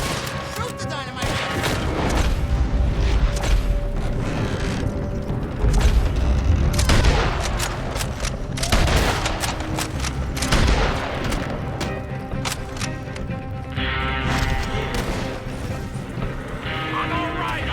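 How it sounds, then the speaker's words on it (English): Gunfire and a dynamite blast in the Western game Red Dead Redemption 2, with shots and heavy booms layered over galloping hooves, music and shouted voices. "Shoot the dynamite!"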